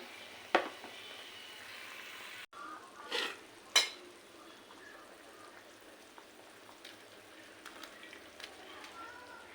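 Potol (pointed gourd) slices fry in a pan in a home kitchen, a soft steady sizzle with a few sharp clatters and pops near the start, fairly quiet throughout.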